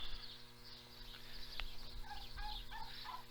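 Turkeys gobble in bursts on a farm, fairly faint and distant, with a steady low background hum.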